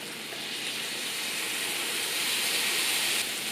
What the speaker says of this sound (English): saute the shallots, and when they're browned a bit, add the mushrooms and the garlic and get those cooking